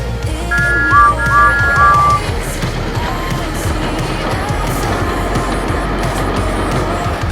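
Cheerful two-note whistles repeat several times early on, like toy steam engines tooting as they race past, over a steady rushing rumble of rolling wheels that continues after the whistling stops.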